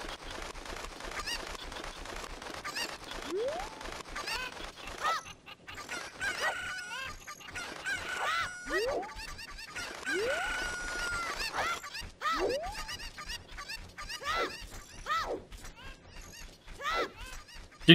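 Chickens in the game Ocarina of Time cluck and squawk in repeated rising calls over busy game sounds and background music, with no talk.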